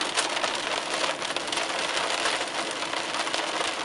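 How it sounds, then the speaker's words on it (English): Dense, rapid pelting of hail from a supercell thunderstorm striking a car's body, a continuous hard patter with a faint engine hum underneath. "that's hail. That's hail. That's hail. I'm taking hail again."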